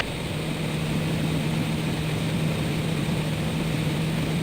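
Propeller aircraft engine during an aerobatic ride, heard from inside the cockpit as a steady, loud drone with a low hum that holds evenly throughout and has no talk over it.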